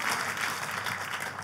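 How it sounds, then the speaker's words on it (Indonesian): A church congregation claps together, a short, moderately faint burst of applause lasting about a second and a half. "Kita kasih tepuk tangan yang meriah buat Tuhan kita."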